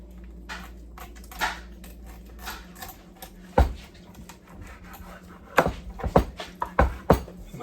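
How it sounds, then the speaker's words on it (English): A sharp knife cuts through sparerib gristle while the ribs are trimmed to a St. Louis cut, giving a series of close, crisp snaps and knocks against the board, sparse at first and then clustered near the end. "Nice sharp knife, goes right through the gristle there"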